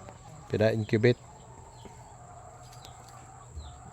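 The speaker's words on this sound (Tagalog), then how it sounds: "Yung mga manok ko na native." A couple of loud clucking calls from a native chicken up close on a farm, followed by quiet background with faint distant noises.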